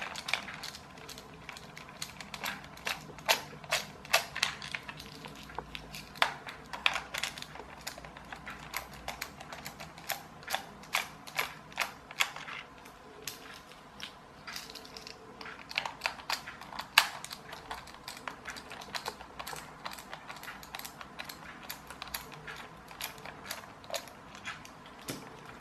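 Small screws being undone while a Kid Galaxy RC bug toy is taken apart, giving a steady run of close, sharp little clicks and ticks with brief pauses, no voices.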